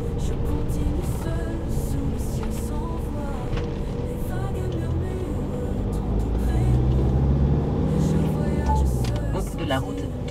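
A camper van rolls over a cobblestone road in rural Portugal, its engine and tyres producing a steady, rattling rumble throughout, with people talking over the cabin noise.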